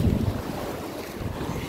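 Rough, churning sea waves at high tide crash and wash near the shore, mixed with heavy wind buffeting the microphone in a continuous loud roar with no voices.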